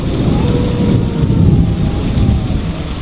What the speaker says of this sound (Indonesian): di luar sepertinya hujan turun begitu deras